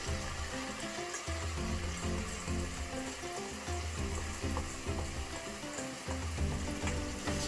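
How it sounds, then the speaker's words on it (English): Washed and drained basmati rice frying in a pot with oil and salt, a continuous busy sizzle with some stirring and a low hum underneath, no speech. "And then just stir it together."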